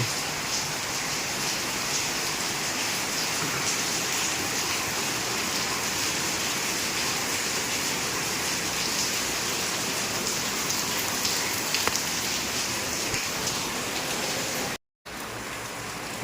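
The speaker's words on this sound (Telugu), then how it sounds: "వర్షం మొత్తం ఆగకుండా పడుతూనే ఉంది" Heavy rain pours steadily with a dense, even hiss that drops out for a moment near the end, with no voices.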